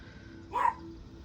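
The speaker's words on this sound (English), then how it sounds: "Why are you barking? Crazy dog." A single short dog bark sounds once, moderately distant, against a quiet background.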